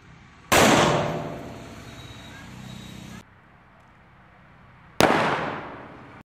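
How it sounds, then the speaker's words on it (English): A plastic soda bottle bursts from hydrogen gas pressure with a sudden loud bang, followed by a rushing hiss and a short lull, then a second sharp burst, close and forceful. "the hydrogen gas released will create enough pressure to rip the bottle apart with a loud bang"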